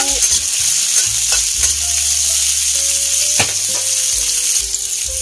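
Onion and achar sizzle steadily in a hot pan alongside garlic while cabbage is cooked, a loud continuous frying hiss with occasional stirring clicks and faint low hums, no voices.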